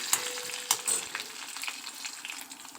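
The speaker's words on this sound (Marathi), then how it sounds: "मोहरी तुम्ही अगोदर टाकून द्यायची तेलामध्ये" Mustard seeds and green chillies fry in hot oil for a dhokla tempering, giving a steady close sizzle with a few sharp pops and crackles near the start.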